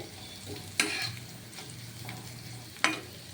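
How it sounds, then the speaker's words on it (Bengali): Low, steady sizzle of poppy seeds frying in oil, with a couple of sharp clinks of a spoon against the pan and no voices. "এবার আমি পোস্তটা দিয়ে দিলাম হ্যাঁ আর পোস্ত দিয়ে একটু ভাজা ভাজা হবে"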